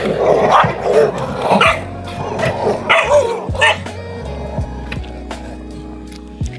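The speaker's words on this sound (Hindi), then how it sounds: "ये देखो गोसाई बाबा पर सभी कुत्तों ने दूसरे कुत्ते को घेर लिया है।" A pack of dogs at a rural shrine barks and yips in repeated sharp bursts as they surround an outsider dog, close and loud, with whimpers mixed in and no talk.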